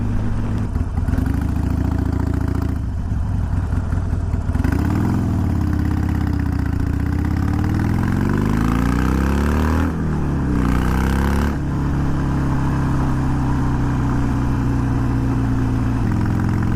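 Harley-Davidson Iron 883 fitted with Wyatt Gatling slip-on mufflers, its engine rumbling loud and close throughout, idling steadily with rising and falling rev swells; no talk.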